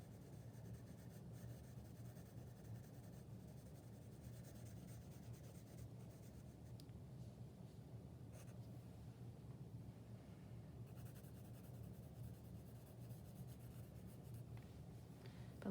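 A #2 pencil tip shades on paper, a soft, steady scratchy rubbing that continues evenly throughout, quiet and close with no talk.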